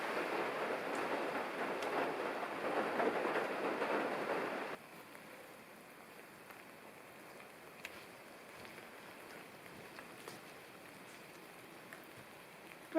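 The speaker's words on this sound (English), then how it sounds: "this little light mist like it's coming down right now" Steady soft hiss of light misty rain falling at a log cabin, louder for the first few seconds, then dropping to a quieter, even patter with occasional faint drips.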